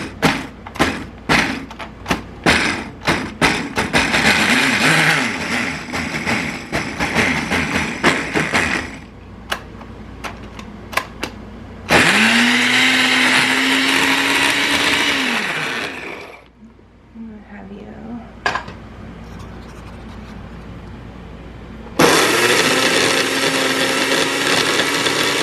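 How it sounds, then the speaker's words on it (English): A kitchen blender on its pulse grate-and-stir setting, used while making a Shavuot cheesecake, whirs loudly in bursts between bumps and clatter, with quieter gaps where a voice speaks. "I found that under pulse, the grate and stir works best on the blender"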